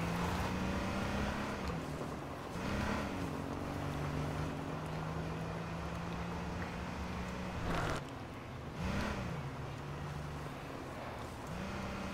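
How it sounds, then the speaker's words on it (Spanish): Motorcycle engine in the online survival game H1Z1, a fairly quiet whining drone that holds steady, then swoops up in pitch twice as the throttle changes, with a wind-like hiss behind it. "escuché una moto que viene detrás de mí"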